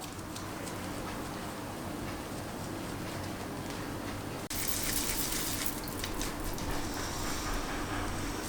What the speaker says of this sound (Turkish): Şimdi durulama zamanı